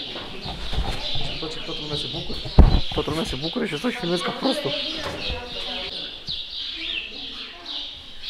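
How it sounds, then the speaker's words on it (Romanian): Many birds chirp and call inside large stables in the village of Charlottenburg, their bright twittering running steadily under someone talking close by, with one sharp knock partway through. "Mă, e și plin de păsări."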